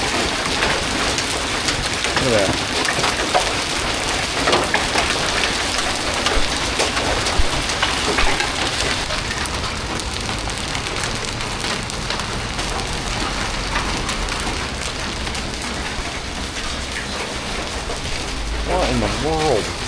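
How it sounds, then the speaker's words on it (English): Hail and heavy rain pelt down during a Kansas storm, a loud continuous dense clatter and hiss throughout, with a brief spoken remark partway through. "we have hail."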